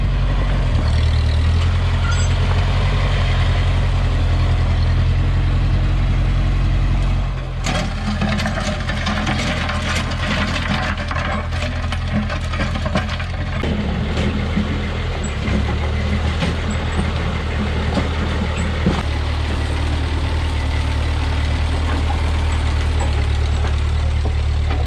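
A tractor engine runs steadily on an off-grid road repair job, a loud, close, low rumbling drone that holds throughout with a slight shift in tone partway, no voices.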